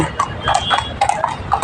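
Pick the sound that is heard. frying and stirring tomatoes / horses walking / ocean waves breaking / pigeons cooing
horses walking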